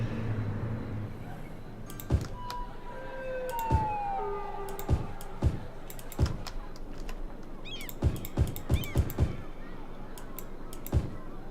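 Wailing emergency vehicle sirens in Cities: Skylines rise and fall in the distance under a steady hum, punctuated by sharp clicks at irregular intervals.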